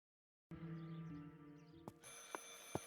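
A telephone rings in the game Martha Is Dead, a faint, sustained bell tone that shifts partway through, with a few brief clicks near the end and no talk.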